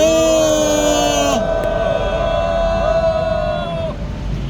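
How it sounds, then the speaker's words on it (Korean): A crowd at an outdoor press conference calling for constitutional reform lets out a loud sustained cheer, the voices carrying strongly for about four seconds before trailing off into background hubbub. "우리 모두 경의 함성 와를 힘차게 외쳐주시기 바랍니다"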